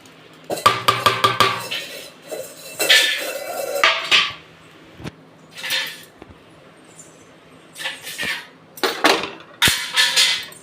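Clattering pan and utensil knocks as cut boiled eggs go into an egg curry in a pan, a run of sharp clinks and scrapes in bursts, close and fairly loud, with no talking.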